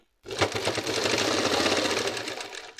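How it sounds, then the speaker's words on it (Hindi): An electric sewing machine stitches a double seam along the top of a petticoat, running as a steady, close, rapid mechanical rattle throughout, without any talk. "बस इसको ऊपर से ना एक सिलाई और मारनी है, यहाँ से डबल सिलाई ये चीज़ में,"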